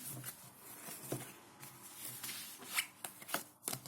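Tarot cards are shuffled by hand close up, giving a series of soft, quick riffling and slapping bursts with short pauses between them and no voice.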